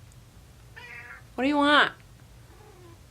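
A pet cat gives two meows, a short softer one then a louder drawn-out one, close by, with a faint trailing call after; a person speaks briefly around them.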